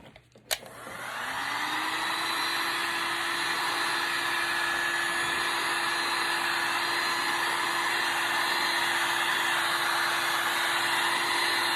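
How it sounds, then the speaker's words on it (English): A heat gun blows across freshly painted tumbler colours on a spinning tumbler: after a brief click it starts abruptly into a loud, steady airy roar with a constant motor hum that runs unbroken to the end, with no talking. "by hitting it with the heat gun again, it helped to swirl the colors and get them moving quite a bit more"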